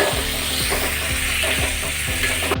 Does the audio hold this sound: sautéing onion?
yes